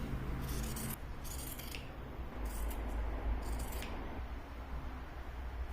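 Scissors snip through folded lengthwise fabric being cut into four equal pieces, several close, crisp cuts in quick bursts against a low, quiet room hum.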